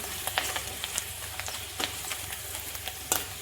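Curry leaves fry in hot oil for a curd brinjal dish, a steady soft sizzle with scattered sharp crackles and pops, close and unbroken by talk.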